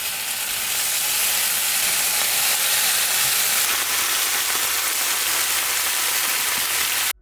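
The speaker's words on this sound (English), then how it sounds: "it's time to move back to the stove and render out that fat" Bacon renders its fat in a hot pan on the stove, giving off a steady, dense crackling sizzle with no pauses. It runs loud and alone the whole way through.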